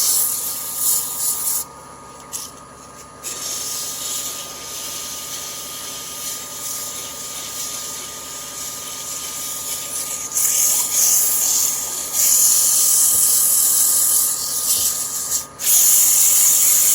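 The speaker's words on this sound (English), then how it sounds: "Sand them both down while I'm sanding" Wooden handles for a draw knife being sanded on a spinning lathe, a steady broad rasping hiss that runs throughout, briefly dipping then growing louder and harsher toward the end.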